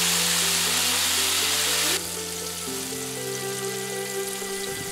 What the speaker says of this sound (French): Je le plonge doucement dans l'huile.